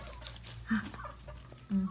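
A chicken gives two short, close clucks about a second apart over a quiet, steady background hum.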